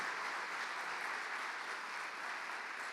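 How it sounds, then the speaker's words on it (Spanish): Steady applause from a church congregation welcoming first-time visitors, a soft, even patter of many hands clapping at a distance, with no pauses. "Les damos un aplauso a todos ustedes que vienen por primera vez."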